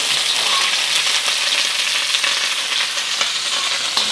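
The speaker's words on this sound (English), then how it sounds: "stir fry that for 11 minutes" White parts of onion stir-frying in ginger-infused oil in a pan for Cantonese beef chow fun: a loud, steady, close sizzle with faint stirring scrapes throughout.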